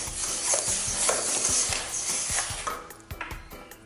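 Semolina being stirred in a salad bowl with salt and pepper for tabbouleh, a steady dry scraping and rustling that runs close and continuous, then thins into a few separate scrapes and taps near the end.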